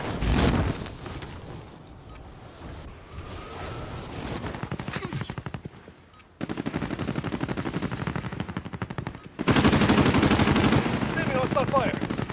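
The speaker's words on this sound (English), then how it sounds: "Enemy hostile fire." Sustained automatic gunfire from the video game Call of Duty: Warzone rattles loud and dense for most of the stretch, with a brief lull before heavier bursts resume and a voice speaking among the shots.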